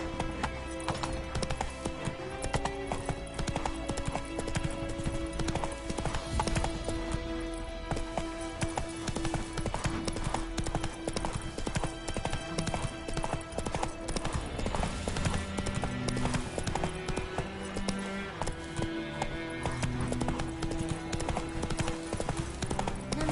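Roach the horse gallops in The Witcher 3, a steady, loud run of hoofbeats that continues throughout, with occasional whinnies and game music layered beneath.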